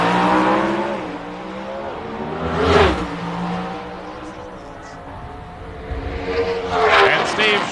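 Pro Stock drag race cars, weighing at least 2,350 pounds with driver, roar down the strip at the 1997 NHRA Fram Nationals, a loud continuous engine drone with a surge near the middle and rising again toward the end, crowd and commentary noise beneath.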